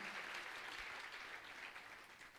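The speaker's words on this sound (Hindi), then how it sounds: "देखो आपके लिए तालियां बज रही हैं।" An audience claps together for a young girl at a live gathering, a faint, steady patter of hands that fades slightly toward the end, with no talking over it.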